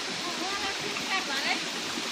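Steady rushing flow of the Himkhuwa river stream in Bhojpur, a continuous broadband water sound with faint gurgles, heard alone without voices.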